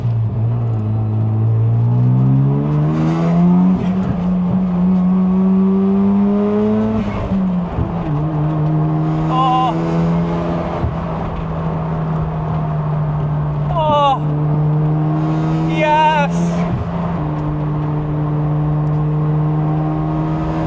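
Car engine revving hard through a corner in second gear, a loud close droning tone climbing in pitch then holding steady for a long stretch, with people talking over it.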